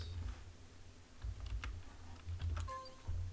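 Typing on a computer keyboard, entering a command: irregular bursts of crisp key clicks with short pauses between, close and fairly quiet, no voices.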